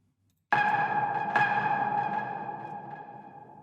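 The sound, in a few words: synthesized ping sound effect shaped with sampler envelope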